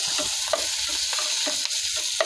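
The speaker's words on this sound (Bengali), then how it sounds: "কাঁচা লঙ্কা দিয়ে মাছগুলো ভালো করে আমি একটু ভাজি করে নিচ্ছি" Jiol fish frying with green chillies in hot oil, a loud, dense sizzle close up, broken by regular stirring scrapes of a spatula through the pan.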